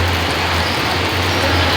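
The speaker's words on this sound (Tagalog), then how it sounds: "Umuulan na." Steady rain falling at a sports center, a dense, loud, continuous hiss with no breaks across the short stretch.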